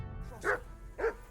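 Dog barking in the medieval game Kingdom Come: Deliverance 2, three short barks spaced about half a second apart, fairly close, over low background rumble.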